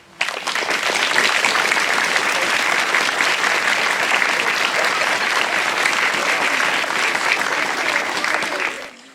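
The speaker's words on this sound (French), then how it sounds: "On peut l'applaudir." Applause at an 11 November armistice ceremony welcoming a new flag bearer: a dense, steady round of clapping from a crowd that starts abruptly, holds evenly for several seconds, then stops.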